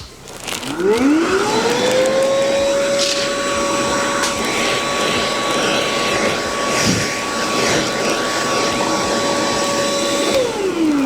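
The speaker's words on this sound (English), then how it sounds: "good blower action with it too" Pellethead Ash Vault Pro cordless vacuum switched to blower mode in a workshop, spinning up with a rising whine into a steady loud high-pitched rush, then winding down at the end; no talking.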